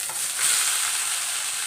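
Cabbage sizzles and crackles with fried onions in a hot oiled pan with a steady, close hiss.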